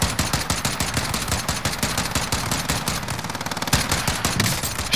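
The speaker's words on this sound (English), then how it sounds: "shoot that guy" Rapid automatic gunfire in Call of Duty: Black Ops Cold War Warzone Plunder mode, a dense, loud, unbroken stream of shots that fills the whole stretch with no talk over it.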